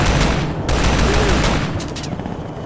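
Light machine gun fire in the video game Shadow Ops: Red Mercury, a loud dense burst of rapid shots that keeps going, then eases off near the end.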